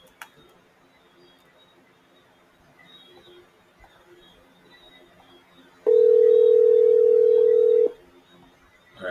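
A phone call rings out while waiting for an answer: after a stretch of quiet room noise, one loud, steady tone lasts about two seconds and then stops, with a small click at each end.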